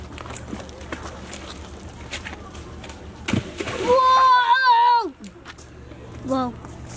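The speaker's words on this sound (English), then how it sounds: "We're throwing stones in the water to see who can get the furthest." Stones tossed into water at Keswick in the Lake District, with splashes and sloshing amid outdoor family chatter, a voice and a loud exclaiming voice mid-clip.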